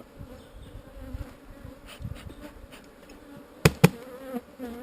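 Honeybees droning around an open hive during an early April inspection while a super is added, a steady close buzz with a few sharp knocks of hive parts and no speech.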